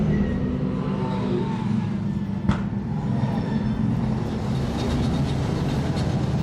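European late model race cars leave the start of the Budweiser 200 final at Warneton Speedway with a loud, continuous engine roar, one sharp knock partway through and the rumble building near the end.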